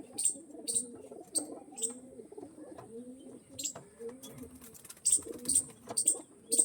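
Several pigeons of an original flying line coo in overlapping, wavering low calls, near and moderately loud, with bursts of sharp high chirps or clicks at the start and end.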